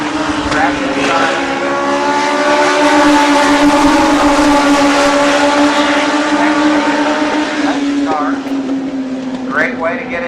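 Race cars with 1250 cc Yamaha engines lap a speedway in a main event, and their engines make a loud, sustained high-pitched whine that shifts in pitch as they pass. An announcer talks over the racing.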